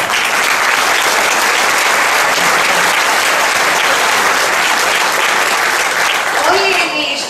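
A theatre audience applauds loudly after the first performance of The Selfish Giant, a thick, continuous wash of clapping that stays loud throughout. A voice begins to speak as it tapers near the end.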